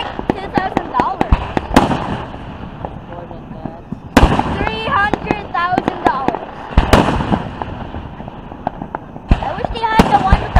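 A hometown fireworks display explodes in several loud, sharp bursts spaced a few seconds apart, each followed by crackling, with people talking and reacting between the blasts.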